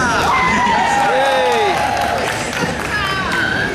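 A large crowd at a voice actor panel cheers and whoops loudly and continuously, with scattered shouts and applause filling the room at close range.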